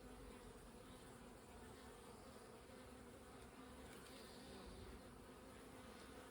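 Dense, steady drone of many honey bees swarming inside an open hive during a queen-rearing setup, a continuous close buzz filling the whole stretch with no talk over it.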